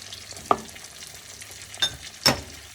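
Butter chicken masala with tomato purée and chicken masala being roasted over a low flame, a faint soft sizzle under three distinct stirring scrapes spaced apart, close by, with no voices.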